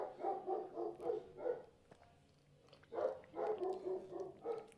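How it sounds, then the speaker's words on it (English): An excited dog barks in quick bursts of several yips and woofs, pausing briefly before another run of barks, at moderate distance in a quiet room. "Dog is obviously getting excited about something."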